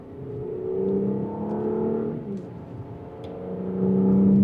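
A 2026 Audi S5 engine pulls in second gear after a downshift, a steady droning hum heard from inside the cabin that rises in pitch and grows louder toward the end.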